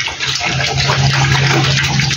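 Water pours loudly and continuously into a pig's feeding trough at close range, a steady gushing splash with no talk over it.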